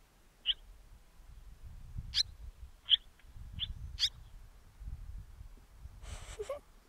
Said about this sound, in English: the little bird speaks, like, responds to the phone which has been recorded